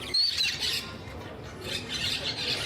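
Baby Quaker parrots in a pet store give harsh, overlapping squawks over a steady, noisy room background, with no one talking.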